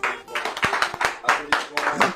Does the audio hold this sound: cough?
no